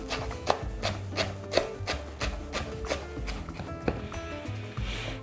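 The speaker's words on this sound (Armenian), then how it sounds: "Մանր կտրատում ենք։" A small bunch of fresh dill is finely chopped on a board for a red lentil and pumpkin soup, with a steady run of close knife taps at an even, quick rhythm throughout.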